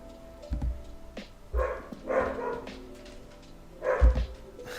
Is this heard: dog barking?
yes